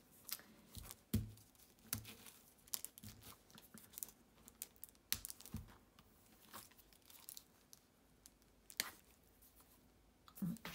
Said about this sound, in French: pour ouvrir, c'est vraiment pas pratique que de faire un emballage hyper costaud comme ça